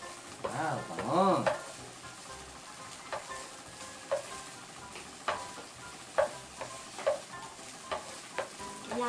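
Onions sizzle gently in a pan for ginataang pinakbet, broken by repeated spatula stirs and scrapes at an uneven rhythm, fairly quiet and close.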